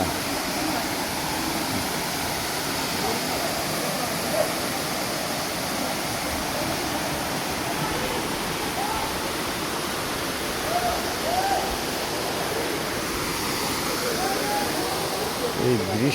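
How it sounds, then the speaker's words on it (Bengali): A waterfall in the green hills of Khagrachhari roars in a constant broad rush of falling water nearby, with a few faint splashes and brief sounds rising over the steady torrent. "ঝর্ণা"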